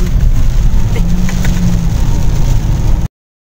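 Steady rain hissing over a loud low rumble, like a vehicle engine idling or driving, continuous throughout before cutting off abruptly.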